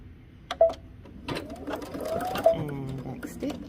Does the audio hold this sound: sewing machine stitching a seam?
yes